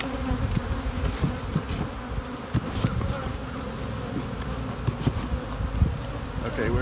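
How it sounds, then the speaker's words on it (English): Bees buzz densely and continuously around an open beehive during a colony split, a close, steady hum with scattered clicks of frames being handled. "Lots of bees."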